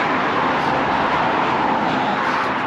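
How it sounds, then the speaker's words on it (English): Continuous dense traffic noise rushes steadily from a dual carriageway nearby, heard past roadside bushes, a constant broadband roar with no pauses and no voices. "There's bushes between me and the cars as well, which hopefully helps deaden the sound."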